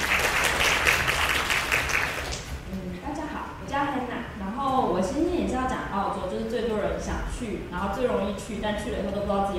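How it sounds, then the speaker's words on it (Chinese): Brisk, close applause from a seminar audience at a youth working-holiday info session in Tainan lasts about two seconds. A person then talks steadily over the quiet room. "好，我们再给燕竹一个掌声"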